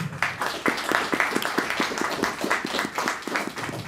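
Audience applause at an academic seminar in Pátzcuaro, many hands clapping in a steady, rhythmic patter, moderately close and sustained with little talk.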